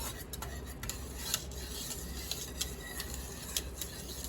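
Hot plum jelly stirred in a pot at a rolling boil, soft scraping with light repeated clinks of the utensil against the pot, fairly quiet and steady.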